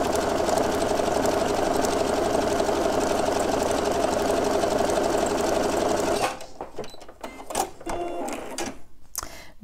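A sewing machine runs a continuous test seam in a zigzag-like stitch for about six seconds, steady and close, then stops and leaves only a few faint handling clicks and taps.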